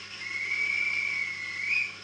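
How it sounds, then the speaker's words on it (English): A guard's whistle sound effect from a model Class 43 train plays as one steady, shrill whistle blast lasting about two seconds, moderately loud over a faint low hum, with no talking. "guard's whistle,"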